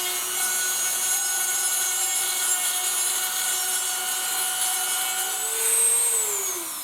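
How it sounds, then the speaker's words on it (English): A Dremel rotary tool smooths corroded chrome off the bead seat lip of a Cadillac Escalade wheel, giving a steady high-pitched whine with grinding rasp. It stays continuous throughout, close up, and rises briefly in pitch near the end. "now we just have to Dremel a little, smooth that chrome off"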